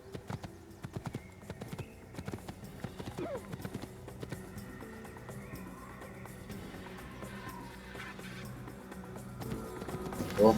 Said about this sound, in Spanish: tendría que usar un caballo,